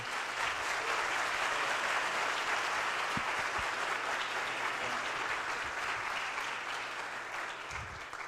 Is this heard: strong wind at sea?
no